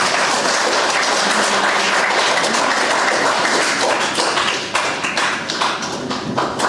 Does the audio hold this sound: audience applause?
yes